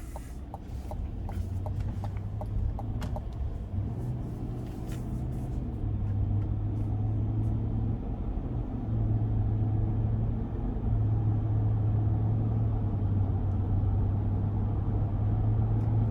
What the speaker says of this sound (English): Here we go on our test drive, the 21 GMC Yukon Denali.